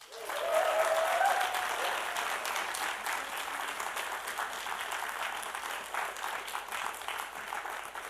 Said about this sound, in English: Can we give a massive round of applause,